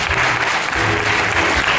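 Loud, dense audience applause erupts for a comedy juggler's one-ball towel trick, a continuous roar of many clapping hands with no break over its short span.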